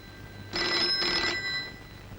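An old-style telephone bell in a Hindi film scene rings in two quick bursts, fairly close and clear, with no talking.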